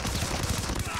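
Rapid bursts of gunfire in a video game, dense overlapping shots in a short fusillade with a voice faintly underneath, close and continuous for about a second.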